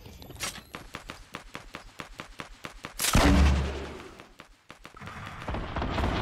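Rapid gunfire in the video game Fortnite, a steady run of sharp close shots, then a heavy booming grenade-launcher-style blast partway through that rumbles and fades before more shooting noise rises.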